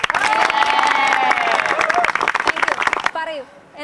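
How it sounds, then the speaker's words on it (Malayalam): An audience at a student event on plastic breaks into loud, sustained clapping with some cheering, which fades after about three seconds as talking resumes. "അപ്പൊ സാറിന് എല്ലാവരും ഒരു കൈയടി കൊടുത്തേ."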